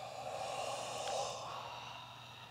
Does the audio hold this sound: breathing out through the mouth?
yes